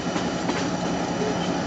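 A Conway Scenic Railroad passenger train runs near Crawford Notch, New Hampshire, heard from on board as a loud, steady rolling rumble with faint rhythmic wheel clatter and no break.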